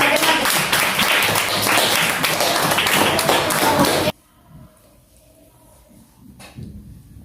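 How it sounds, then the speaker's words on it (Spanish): Dense audience applause fills a Women's Day science interview event for about four seconds, loud and steady, then cuts off abruptly to near silence with faint room sounds and a small knock. "Un aplauso."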